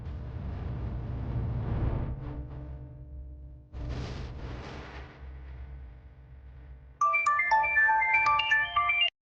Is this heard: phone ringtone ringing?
yes